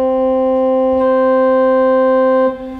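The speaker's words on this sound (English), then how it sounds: "The 4-foot principal, as you'll hear, is pitched an octave higher." Pipe organ sounding a 4-foot principal stop, pitched an octave above the 8-foot: a bright, steady sustained note that brightens slightly partway through, holding for about two and a half seconds before stopping and fading into the room.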